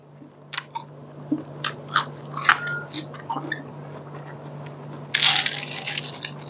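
Close chewing and crunching while eating tam sua, a papaya salad with rice noodles, in irregular bites over a low steady hum, with a louder burst near the end.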